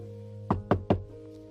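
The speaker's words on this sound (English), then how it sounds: "a knock on the door startles him" Three sharp knocks on a door in a quick, evenly spaced run, loud and close over a faint steady hum, with no voices.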